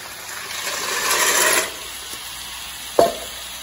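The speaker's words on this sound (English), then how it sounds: "The water is boiling, so time to add my pasta." A soft rushing, bubbling hiss swells for about a second and a half and fades, followed by a single sharp clink.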